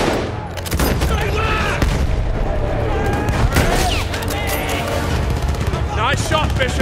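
Dense rifle and artillery fire on a Battlefield 1 battlefield, continuous close shots and booms layered over a rumbling background, with shouted voices mixed in.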